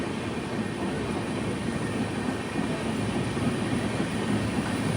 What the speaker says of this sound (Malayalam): ട്രെയിൻ ഇപ്പോൾ വടകര റെയിൽവേ സ്റ്റേഷനിലേക്ക് ഇതാ